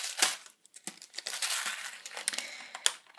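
A small package of scrapbooking eyelets is torn and crinkled open up close, with several bursts of plastic crumpling and tearing in quick succession.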